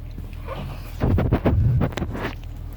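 Nissan engine idling during an idle relearn procedure for high idle surges with code P0507, a steady low rumble with a louder, rougher stretch in the middle as the idle shifts.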